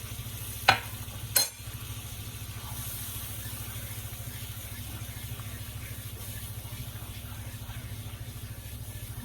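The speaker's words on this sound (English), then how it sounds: "Just keep mixing it till you think that that's the thickness that you want your soup to be" Albanian northern bean soup (pasul) with bacon, carrots and veal neck bones being stirred in a pot, a steady low bubbling simmer running throughout with two sharp scraping knocks of the spoon near the start, no talk.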